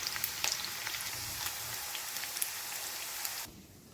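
Meal maker soya chunks fry in hot oil, a dense steady sizzle with crackling pops, close and even, fading abruptly near the end with no talk.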